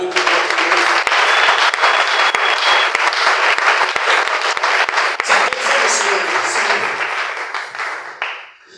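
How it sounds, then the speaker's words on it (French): A church congregation breaks into sustained, loud applause that fills the room for several seconds, thinning out and fading away at the end. "Est-ce qu'on peut acclamer le Seigneur?"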